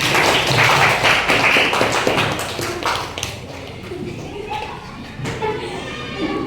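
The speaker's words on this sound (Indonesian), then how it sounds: "Tepuk tangan untuk Bapak." Children applauding in a classroom for their teacher, loud scattered clapping that fades into lighter taps and thumps, with kids chattering underneath.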